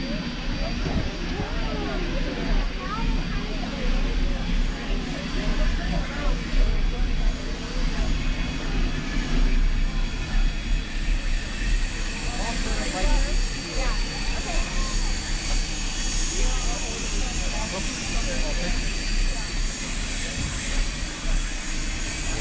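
A Durango and Silverton steam locomotive works as a second engine pulling a train up a mountain. It makes a steady, loud rumble and hiss throughout, with people's voices heard over the din.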